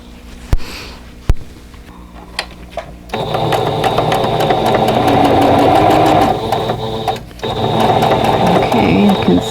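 A sewing machine stitches a quilt block for an arrowhead star stash-buster pattern, running in a steady loud mechanical whir for most of the clip after a few sharp clicks and handling noises, with a brief pause near the end.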